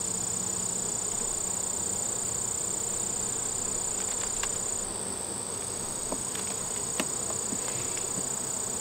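Honeybees buzzing around an open hive during an inspection, a dense continuous drone close to the microphone with a few individual bees zipping past and faint clicks of handling.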